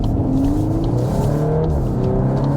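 A 2021 VW Golf R Mk 8 pulls away hard in a launch-control start, a loud, close engine drone climbing steadily in pitch through the revs.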